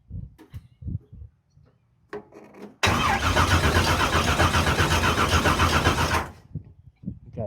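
An old Henry J drag car, parked since 1977, is started: a few clicks and short cranks give way to a loud, close engine firing and running rough for several seconds before cutting off.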